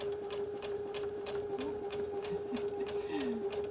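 A Brother Innovis NV1100 sewing machine sews a long tacking stitch with a steady, rapid mechanical whir and tick close by, under a constant motor hum, with faint softer tones in the background.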